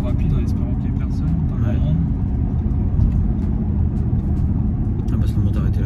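An Audi SQ7 ABT 4.0 TDI V8 diesel SUV with quattro drive accelerates hard, its deep engine rumble filling the cabin while people talk over it.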